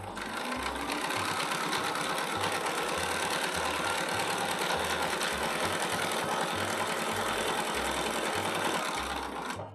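A quilting machine runs steadily along a ruler template, stitching a drawn line on a quilt block with a loud continuous whir and a regular mechanical pulsing underneath, uninterrupted and without voices, stopping at the very end.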